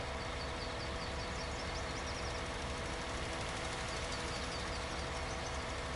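A tractor engine runs continuously in Farming Simulator 19, a steady droning hum with no change in pace and no voices.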